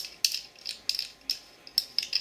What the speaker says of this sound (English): The barrel, you would take off the barrel nut.